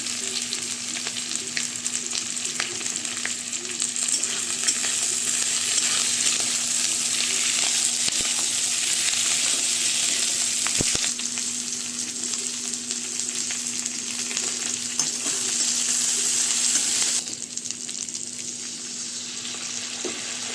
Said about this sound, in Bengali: পেঁয়াজটা ভাজা ভাজা হয়ে এসছে এবার আমরা ক্যাপসিকামটা দিয়ে দেবো